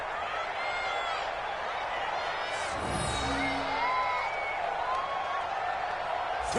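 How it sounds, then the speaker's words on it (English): A broad wash of stadium crowd noise in a football video game roars steadily throughout during a two-point conversion, with scattered shouts and whoops rising from the mass of voices. "Listen to this crowd now."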